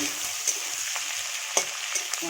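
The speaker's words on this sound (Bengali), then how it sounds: "এবার ওই তেলেই গোটা গরম মশলা, শুকনো লঙ্কা আর সার জিরে দিয়ে দিলাম, দিয়ে ছেড়ে দিলাম পেঁয়াজ, ক্যাপসিকাম আর" Whole spices, dried chili, cumin, onion and capsicum fry in hot oil, a steady bright sizzle with occasional sharp pops and stirring scrapes, close and continuous without talk.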